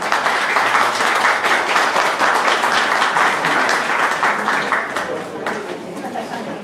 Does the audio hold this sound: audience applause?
yes